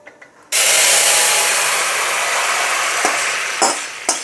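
Ash gourd pieces dropped into a pan of hot oil with dried red chilli and radhuni tempering, setting off a sudden loud sizzle that holds steady and then eases slightly, with a few stirring clinks toward the end.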